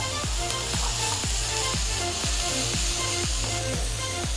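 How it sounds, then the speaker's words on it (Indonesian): Salt, powdered broth and pepper are stirred through food in a sizzling frying pan, with a steady fry hiss and regular spatula scrapes about twice a second, close and loud. "Kita aduk sebentar lagi."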